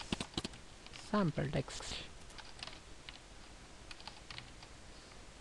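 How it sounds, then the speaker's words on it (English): Keys on a computer keyboard tapped in a quick burst of clicks while typing text into Microsoft Word, close and clear, with a person speaking briefly over the typing. "I will just type something"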